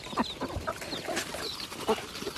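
Ducks kept on a small farm in Assam call in short clucking, quacking bursts while feeding, several brief calls scattered close by over low background noise.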